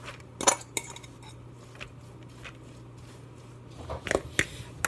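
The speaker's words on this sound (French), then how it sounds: "je vais tout mélanger mes ingrédients dedans" Utensils stir ingredients for a vegan Hawaiian-style spaghetti squash dish, producing quiet, sporadic clinks and scrapes against the dish over a low steady hum.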